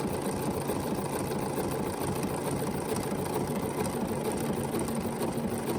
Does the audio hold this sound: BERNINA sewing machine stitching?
yes